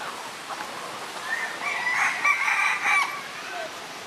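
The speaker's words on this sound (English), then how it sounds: "This is a bit noisy with all these roosters." A rooster crows at a moderate distance near a cactus garden in Spain, one drawn-out call rising over steady outdoor background noise.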